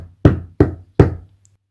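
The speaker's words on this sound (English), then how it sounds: "He knocked again at the door." Three evenly spaced knocks strike a door, each a short hollow thump, close and clear against a faint low hum.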